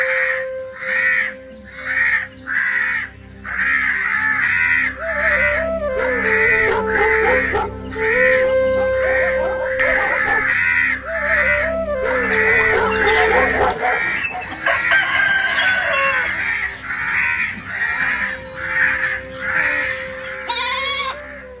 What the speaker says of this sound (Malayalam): കിളികളും കൂട്ടത്തോടെ ചിലക്കുകയും